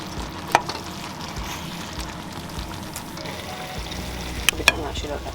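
Green beans and rice fry in a pan inside a camper van, a steady close sizzle with a few sharp clicks of stirring near the start and end.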